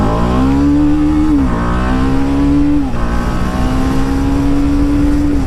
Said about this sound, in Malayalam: ഈ ഒരു 25 bhp വണ്ടി എന്തോരം കയറുന്നു നോക്കാം.